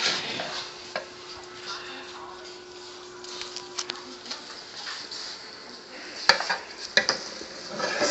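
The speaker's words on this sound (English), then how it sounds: "Kinda hard for me to stir, so I'm gonna let my daddy stir it." A mixture is stirred in a bowl with soft, steady scraping, broken by a few sharper clinks against the sides over a faint background hum.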